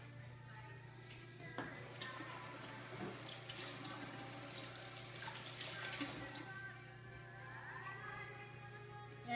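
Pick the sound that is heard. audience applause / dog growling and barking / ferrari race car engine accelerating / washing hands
washing hands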